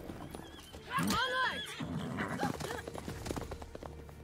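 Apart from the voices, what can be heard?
horses neighing and hooves clip-clopping in The Witcher 3 video game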